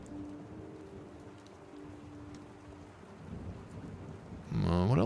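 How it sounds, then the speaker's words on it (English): Rain and thunder in a night road scene from the video game Rue Valley, steady rainfall hissing throughout with a low rumble swelling loudly near the end. "The worst of the deluge is over, but the rain continues to drizzle, tiny droplets pecking the asphalt like a cloud of angry mosquitoes."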